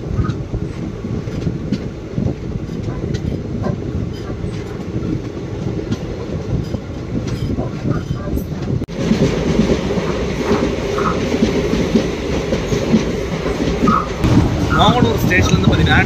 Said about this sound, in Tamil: train depart ஆகிடுச்சிங்க